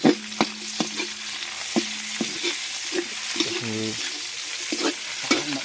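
Onions frying in a pan for Filipino escabeche, a steady close sizzle broken by repeated sharp scrapes and clacks of a utensil stirring against the pan.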